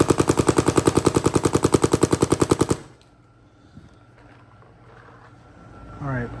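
Rapid string of bowling-ball-like impacts from a Method Development Anechoic Ram gun, about twenty loud even pulses in quick rhythm, then a sudden stop leaving a quiet room with faint shuffling.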